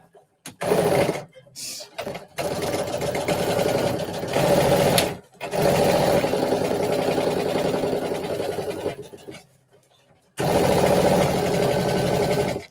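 A sewing machine stitches a dart on a dress in several bursts of rapid, even whirring, pausing briefly between runs, close and clear with no talking.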